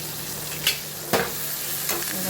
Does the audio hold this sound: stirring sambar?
yes